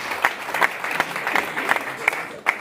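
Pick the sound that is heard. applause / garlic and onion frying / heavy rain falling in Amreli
applause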